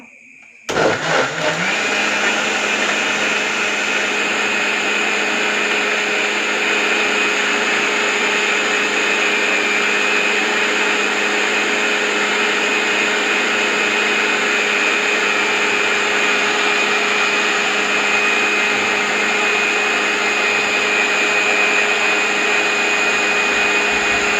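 A blender whirs steadily at high speed, blending a jackfruit seed shake with milk after a brief start-up, loud and continuous with no talk over it.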